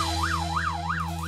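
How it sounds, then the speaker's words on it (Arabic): A police siren wails loud and continuous, sweeping steadily up and down several times over a low hum. "الشرطة، علي الخروج من هنا."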